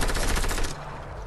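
A rapid burst of automatic gunfire in a video game shooter rattles loudly for under a second, then cuts off into quieter background game sound.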